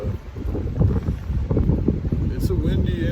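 Steady gusting wind buffets the microphone outdoors on a wet, chilly day, a loud rumbling roar that runs unbroken throughout.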